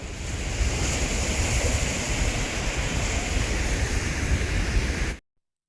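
Floodwater rushing past a bridge at Harangi Dam in Coorg during heavy rain makes a loud, continuous roar mixed with wind buffeting, which cuts off abruptly near the end.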